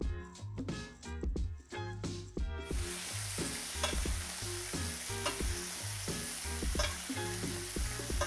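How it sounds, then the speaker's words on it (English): A steak sizzles and spits loudly in a searing-hot carbon steel or cast iron pan while being basted, with steady frying crackle and rhythmic scraping and spooning sounds throughout, close and alone. "that pan's still going to stay searing hot while you're basting your steak"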